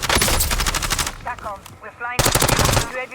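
Bursts of rapid automatic gunfire in a shooter video game, fired at an enemy's deployed trophy device, with loud rattling volleys, a short gap with faint effects, then another heavy burst.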